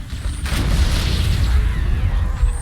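A grenade blast in Halo: Combat Evolved, a loud boom with a sustained rumbling roar filling the whole moment, up close and without talk.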